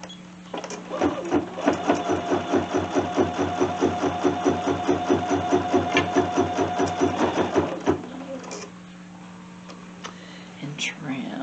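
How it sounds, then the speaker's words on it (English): A Bernina sewing machine stitches fabric for a casserole cover in a steady, rapid mechanical run of about seven seconds, close and fairly loud, then stops. "So we'll stitch this one down."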